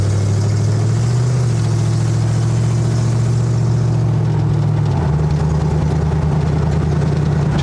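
A 1970 Ford Falcon engine runs steadily at close range, a low droning hum that shifts pitch slightly as the revs change, with no voices.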